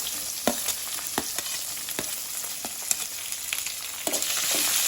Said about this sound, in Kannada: ಈರುಳ್ಳಿಯನ್ನು ಚೆನ್ನಾಗಿ ಫ್ರೈ ಮಾಡ್ಕೊಳ್ಬೇಕು